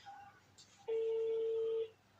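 A telephone rings indoors with a faint brief chirp, then a single loud, sustained electronic tone about a second long that stops abruptly.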